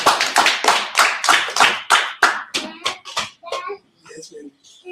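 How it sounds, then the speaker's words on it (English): Rhythmic group clapping in steady unison at a religious Hanukkah gathering, loud and close, slowing and thinning into scattered claps with brief voices near the end. "Clap it up."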